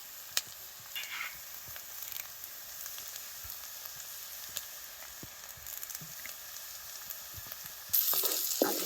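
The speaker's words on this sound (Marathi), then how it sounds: "कढीपत्ता टाकू त्याच्यात" Curry leaves crackle and sizzle in hot oil for a rustic tomato chutney cooked on a wood-fired clay stove, a faint steady spitting hiss with scattered pops that flares louder near the end.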